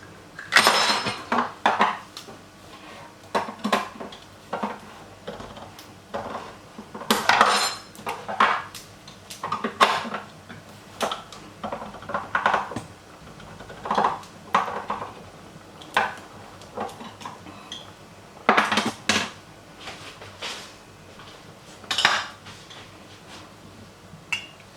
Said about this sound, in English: So I'm just going to open my tin and then empty it out into the pot.